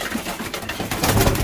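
Pigeons cooing in a loft, soft throaty coos close by, with a little rustling and other bird sounds mixed in during a brief stretch.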